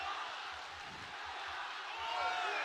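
Crowd noise at a mixed martial arts title fight featuring Aung La Nsang, a steady broad roar of spectators swelling slightly toward the end, heard continuously without a break.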